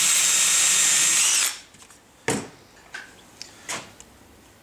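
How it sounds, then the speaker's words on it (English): A power drill whines steadily for about a second and a half drilling a pilot hole in wood for a Yale lock, then stops, followed by a few scattered clicks and knocks. "just pilot this out with your drill"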